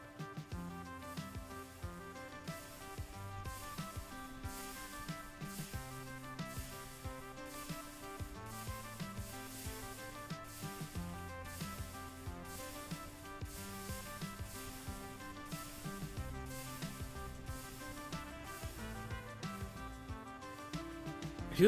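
Quiet, steady rhythmic whirring and humming from GregTech machines running in modded Minecraft, coal-fed, layered tones repeating evenly throughout with no talk.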